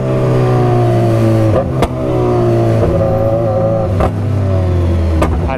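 Loose-piped motorcycle exhaust revving on a beach road, loud and close, the engine note climbing and falling across several pulls with brief dips between them. Nobody talks over the engine.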